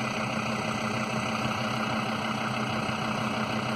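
An offroad vehicle's diesel engine idles close by with a constant, even rumble and steady mechanical drone, no speech over it.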